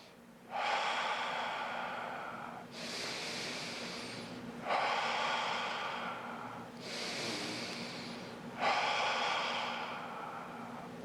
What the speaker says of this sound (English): That's circular breathing. Through the nose, out the mouth.